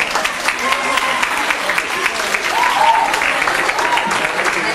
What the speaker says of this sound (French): on peut les applaudir très très fort.